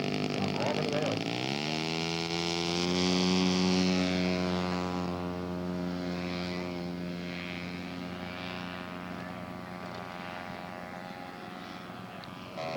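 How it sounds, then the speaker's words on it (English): A scale model propeller aircraft taxis at an airfield show, its engine droning steadily and rising in pitch early on, then holding a loud, even buzz for several seconds before easing slightly. "John Lindsay taxiing down there on line 2 to the right."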